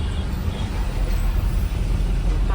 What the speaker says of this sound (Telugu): మొత్తం ట్రాఫిక్ జాము.